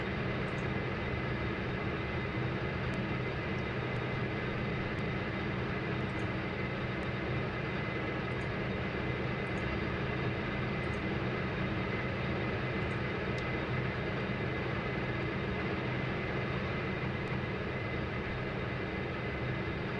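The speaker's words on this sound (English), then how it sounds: "number 2 engine is stable" A Majestic Q400 turboprop engine running steadily in the flight simulator FSX, a constant loud droning roar and whine with no change and no talk.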